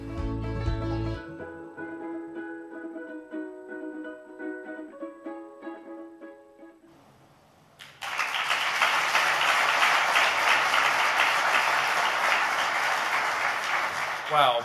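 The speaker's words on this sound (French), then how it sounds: "Une bonne main d'applaudissements aux trois." A contest audience breaks into loud, sustained applause for three finalists at an excellence competition, a dense clapping roar that starts abruptly after a quieter stretch of music and talk and continues to the end.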